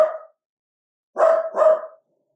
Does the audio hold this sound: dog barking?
yes